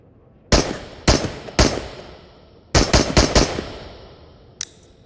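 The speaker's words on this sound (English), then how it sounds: "This has the best full auto sound in the game, in my opinion, like by far." Full-auto gunfire from a large-magazine rifle in the VR game Into the Radius: three single shots, then a rapid four-round burst and one last shot, loud and close with no talking.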